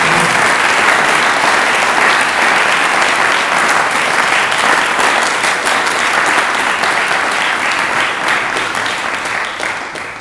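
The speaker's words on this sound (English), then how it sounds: "So another round of applause." Steady, dense applause from an audience at a youth debate on education, honouring the delegates; loud and continuous for about ten seconds, thinning slightly toward the end.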